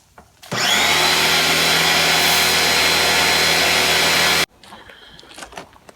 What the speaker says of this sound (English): I think next we need to give it a bath. Just to get some of the grime off of it, because it's been sitting for a long time. So I might pressure wash this thing.